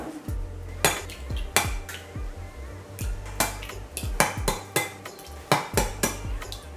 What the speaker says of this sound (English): There we go, all 5 eggs have been cracked.